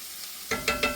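Vegetables frying in coconut oil in a pan, a soft steady sizzle that swells with a few stirring bursts near the end, close and moderately loud.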